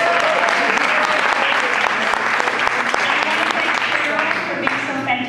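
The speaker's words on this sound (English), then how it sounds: "Let's give another round of applause." A live audience bursts into sustained, dense applause for a singer at a women-in-business meetup in Sydney, steady and loud throughout, with voices mixed into the clapping.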